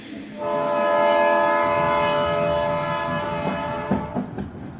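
A train sounds a long, steady horn as it departs, followed by rhythmic clacking and thumps of the rail cars, loud and close with no talking.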